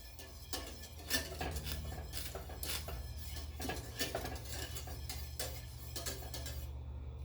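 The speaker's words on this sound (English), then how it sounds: "Keep on stirring so it doesn't get lumpy." A spoon scrapes and knocks around a pot of Jamaican plantain cornmeal porridge in a continuous, steady rhythm, close by but soft, over a low kitchen hum with no talking.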